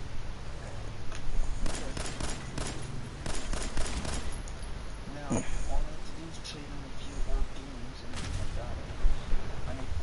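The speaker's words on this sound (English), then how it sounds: "Do you see that explosion? Yo, that was a big explosion." Large explosion in a video game, a series of heavy booming blasts and crackling bursts at moderate volume, with a player talking over them throughout.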